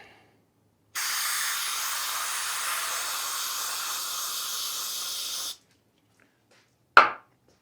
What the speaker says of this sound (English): a little bit more spraying over here off camera